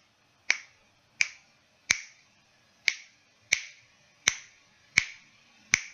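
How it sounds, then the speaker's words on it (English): Sharp finger snaps made close to a microphone while testing an Arduino sound sensor project, eight crisp separate cracks at a steady, slightly uneven pace, each with a short fading tail, alone against a quiet room. "if I were to snap my fingers"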